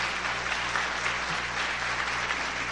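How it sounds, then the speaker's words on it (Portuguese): Audience applause at a talk, an even, continuous wash of many people clapping with a low hum underneath, steady from start to finish. "palmas pro Carl, né?"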